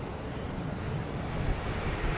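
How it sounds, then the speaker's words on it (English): A small Gulfstream business jet at Stansted Airport gives off a steady, broad engine roar at moderate distance, blended with wind buffeting on a blustery crosswind day. "And here we have a little Gulf Stream."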